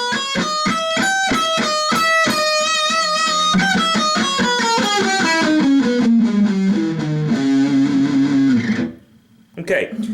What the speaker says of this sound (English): Your E Phrygian dominant is going to sound like this.